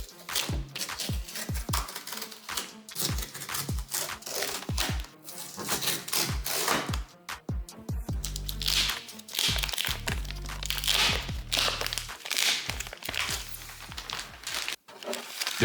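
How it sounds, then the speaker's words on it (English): Plastic wrapping is peeled and pulled off a new Bambu P1S 3D printer, giving close, continuous crinkling and crackling with sharp snaps and a few low thuds throughout. "Let's take the plastic off."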